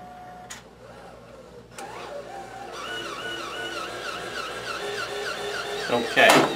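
A wide-format printer's print head slides off its capping station and across the machine, a steady mechanical whir building slightly in level, with clicks and a louder burst near the end.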